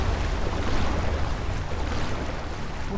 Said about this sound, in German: jetzt können wir das Wasser sogar ganz wieder hoch machen